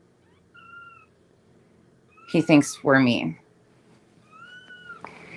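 A male cat protests with two drawn-out meows as he is stimulated to go to the bathroom, each clear and close against a quiet room, while people talk in between them.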